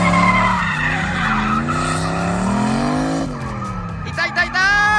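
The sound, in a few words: Lexus V8 car drifting, tires skidding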